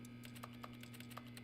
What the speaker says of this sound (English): Why is it every time I click it, it's like keyboard sounds?